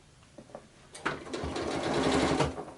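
Sewing machine stitching fabric for a door stopper, with a few soft clicks as the needle is lowered, then a rising, steady mechanical whirr of rapid stitching before it slows to a stop.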